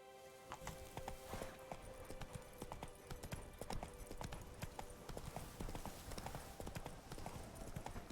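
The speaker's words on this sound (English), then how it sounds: "I get you're waiting for Geralt to mount you, but you don't have to present yourself." Horse hooves clip-clop steadily in The Witcher 3, a dense run of sharp, close hoof strikes on hard ground throughout, with faint game ambience beneath.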